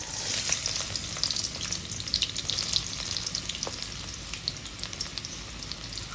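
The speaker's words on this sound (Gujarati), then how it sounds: "આપણું તેલ ગરમ થઈ ગયું છે. હવે આપણે નાખી દઈશું એમાં લીલા મરચા, પછી ડુંગળી" Green chillies and onion frying in hot oil, a steady close sizzle with crackling pops throughout, loud and unbroken with no voices.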